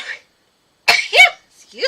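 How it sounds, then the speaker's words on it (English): A single loud, sharp sneeze bursts out close by, followed by a brief breathy exhale and a short voiced sound. "That was a big old sneeze."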